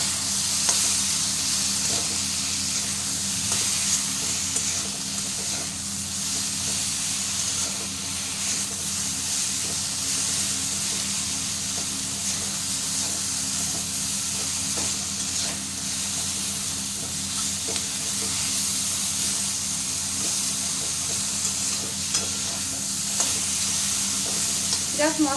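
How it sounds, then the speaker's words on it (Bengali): Fish frying in a pan with spices and a little mustard paste for a fish and drumstick curry, a continuous close, even sizzle and hiss with a faint underlying hum, lasting throughout without any talk. "এবার এটাকে ওই মশলাগুলো দিয়ে একটু ভেজে নেব।"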